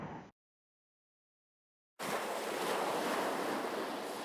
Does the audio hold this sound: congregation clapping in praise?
no